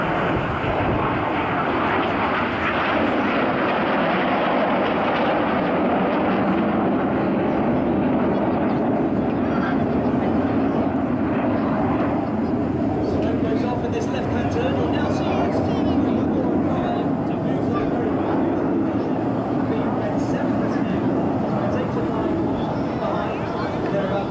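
Jets of an aerobatic formation team roar overhead at the Blackpool airshow, a loud sustained engine rumble lasting throughout.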